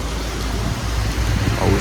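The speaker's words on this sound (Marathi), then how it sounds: "पाऊस जाम पडला आहे." Heavy monsoon rain pours in a dense, steady hiss, with a low rumble underneath throughout, heard during a bus journey from Mumbai to Konkan.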